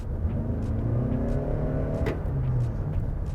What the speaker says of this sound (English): Yeah, that 4-cylinder does get a little bit vocal.